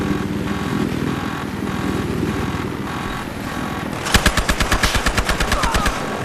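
Helicopter-mounted machine gun in the video game Battlefield Hardline fires a rapid burst of about a dozen sharp, evenly spaced shots near the end, loud over a steady rotor-like engine drone.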